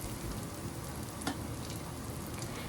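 Small chopped pieces of ginger fry in a pan for broccoli Manchurian, giving a steady, fairly quiet sizzle with a brief stir or clatter partway through and no talking.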